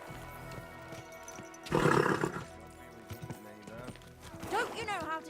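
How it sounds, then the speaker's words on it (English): A horse in Kingdom Come: Deliverance 2 pounds along with thudding hooves and a loud whinny, while voices talk and shout over the commotion. "Don't you know how to keep your horse under control?"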